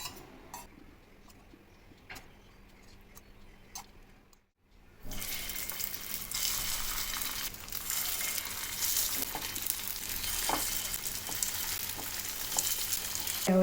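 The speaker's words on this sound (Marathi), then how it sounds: "फ्राय म्हणजे आपण आप्पे पात्रामध्ये थोड्याशा तेलात फ्राय करणार आहे" Sabudana vada frying in a little oil in an appe pan, a steady close sizzle that jumps louder after a brief pause and then holds a bright crackling hiss, no voices.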